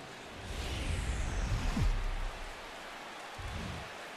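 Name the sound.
rain at Busch Stadium in MLB The Show 17 video game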